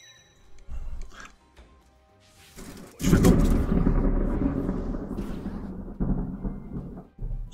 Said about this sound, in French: Je sais pas si vous avez entendu le tonnerre chez moi.